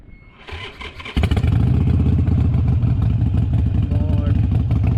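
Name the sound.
Harley Davidson Iron 883 motorcycle engine starting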